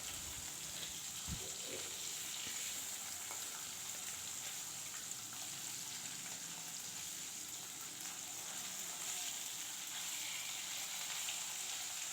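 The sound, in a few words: pabda fish frying crisp in a pan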